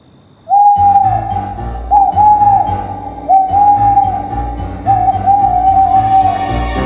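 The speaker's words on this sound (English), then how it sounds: "It was only an owl hooting." Repeated owl hoots in a Thomas the Tank Engine video game, four drawn-out calls with short gaps, sounding over a low droning backdrop of music and rumble.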